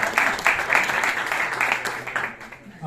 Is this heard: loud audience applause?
yes